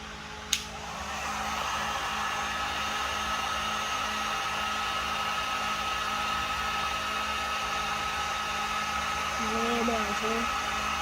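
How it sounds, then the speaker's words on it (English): Heat gun blowing hot air during a four-wheeler rebuild, a loud, steady whooshing roar that starts after a sharp click and runs continuously without talk. "hand me that heat gun. We'll heat this one up."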